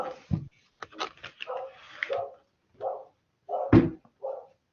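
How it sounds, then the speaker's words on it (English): A dog in the room during an online tutorial session gives several short barks mixed with whimpers and yips, close and moderately loud, separated by brief silences. "Sorry about my dog."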